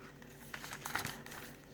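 Plain paper for a junk journal crinkles and rustles faintly in a few soft, close handling sounds, with no talking.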